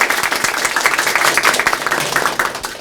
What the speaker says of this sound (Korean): 여러분들의 힘찬 박수로 시작하도록 하겠습니다